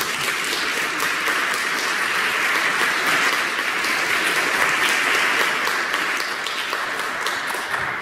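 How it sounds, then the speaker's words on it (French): A church congregation applauds during a Catholic Mass homily, a steady, full round of clapping that fills the room evenly from start to finish with no talking over it. "Je pense qu'on pourrait s'applaudir."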